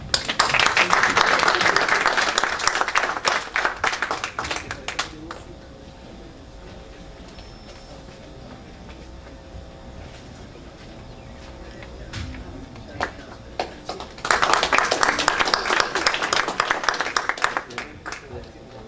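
An audience at a climate change forum applauds in two dense bursts of clapping, one at the start and another near the end, with a quieter stretch of low room sound between them.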